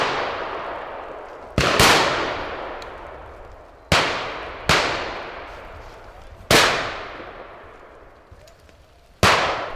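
Shotgun blasts ring out at a driven pheasant shoot in Denmark, five sharp reports spaced a second or two apart, each trailing off in a long echoing decay across open countryside.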